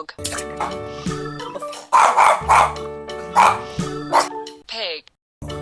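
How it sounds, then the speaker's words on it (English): A dog barks several times in loud, close bursts over a backing of music, with a short high whine near the end. "Dog."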